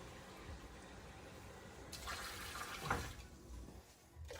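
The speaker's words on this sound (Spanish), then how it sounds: "ahora vamos a agregarle 2 tazas más de agua" Water poured into a cooking pot while making Honduran pork tamales, a splashing liquid rush building up midway and trailing off, close by with no talking.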